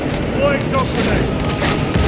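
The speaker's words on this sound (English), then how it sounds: "Deploying smoke grenade." A smoke grenade deploying in Space Marine 2: a steady, loud rushing hiss with a low rumble underneath, lasting the whole moment, with muffled voices mixed in.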